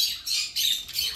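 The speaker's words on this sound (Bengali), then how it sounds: "এখানে আমরা দেখতে পাচ্ছি রেনবো বাজিগার, খুবই সুন্দর এবং খুবই অ্যাক্টিভ পাখিগুলো" Rainbow budgerigars squawking in a pet shop, three bursts of harsh, high chatter close by with short gaps between them, no talking.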